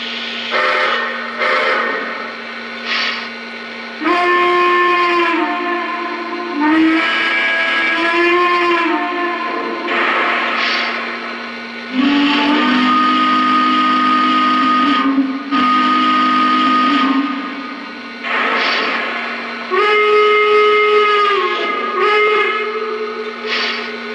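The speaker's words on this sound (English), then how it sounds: "I don't really know what the northern whistle kind of sounded like" The steam whistle of the Greenbrier Chessie train sounds repeatedly, long loud shrill blasts with shifting pitch, separated by short hissing gaps.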